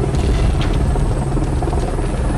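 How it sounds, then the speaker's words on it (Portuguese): A police helicopter flies overhead during an aerial pursuit of a stolen pickup truck, its rotor producing a loud, steady thudding roar that fills the short stretch without a break and with no talk. "Olha o helicóptero."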